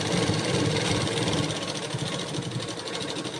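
A sewing machine runs continuously, stitching cloth piping for a garment with a steady, dense mechanical whir and rapid needle rhythm, loud and close, with no talking.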